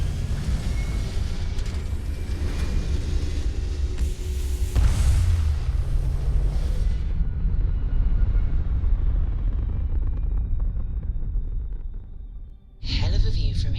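A spaceship lifting off in the Starfield game: a loud, sustained low roar and rumble builds with a heavy surge around the middle, then cuts away abruptly near the end, with a voice speaking over it.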